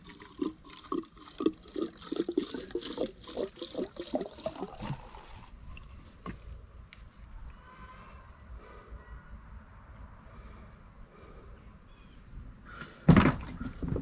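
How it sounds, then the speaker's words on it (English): Gasoline is poured into a tank with hoses attached in an off-grid tiny house setup: bursts of glugging liquid at first, then a quieter trickle, and a sharp clunk near the end. "Now I'm going to pour gasoline in it, make sure that it doesn't leak."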